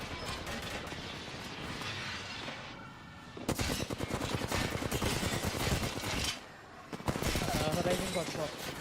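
Rapid automatic gunfire in the battle royale shooter Apex Legends, loud close bursts of fast, evenly spaced shots with brief pauses between volleys over a busy game mix.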